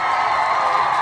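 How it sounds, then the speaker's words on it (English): Brief, dense burst of crowd cheering and applause, a steady wash of noise from many people with no distinct individual claps. "we want to give you a round of applause"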